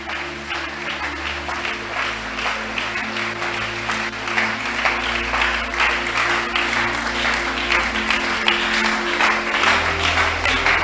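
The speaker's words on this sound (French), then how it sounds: "Continuez à acclamer pour le Seigneur." A church congregation applauding and cheering in worship, sustained loud clapping from many hands with crowd voices, running continuously over a held musical drone.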